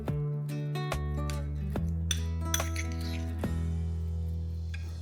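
A chicken kofta stuffing with cheese, garlic paste and chopped green chilies being mixed in a bowl, with a spoon clinking and ringing against the dish in a few sharp taps over a soft wet squish, close up.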